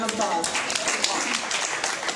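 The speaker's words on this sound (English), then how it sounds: "Give them a round of applause." An audience at a social media camp event claps for a presenting team, brief scattered applause with some voices mixed in, moderately loud and fairly close.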